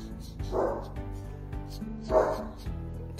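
Two moderately loud barks from a nearby dog, spaced about a second and a half apart, over a steady low background hum.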